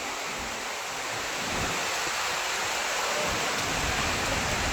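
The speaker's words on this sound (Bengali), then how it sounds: "দেখো বন্ধুরা কি বৃষ্টি," Heavy rainstorm pouring down nearby, a loud, dense and steady roar of falling water with gusty swells and no talk.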